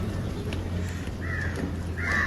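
Crows cawing as they gather to be fed, two or three harsh caws rising over a low steady hum and background murmur, fairly close.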